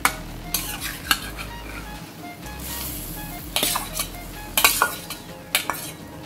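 Raw morola fish going into a boiling sour fish broth for kacha chachori, with scattered scrapes, clinks of a pan and spoon, and soft bubbling between sharper hits.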